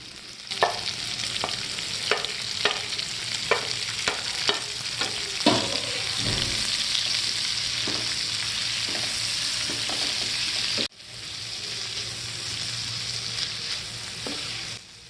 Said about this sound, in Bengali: এখন দিয়ে দিচ্ছি সবুজ, হলুদ ও লাল ক্যাপসিকাম। এগুলো ভালো করে নেড়েচেড়ে ভেজে নেব।